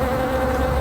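Bees buzzing steadily near a cave, a dense, continuous drone that stays loud and close throughout, with no voices.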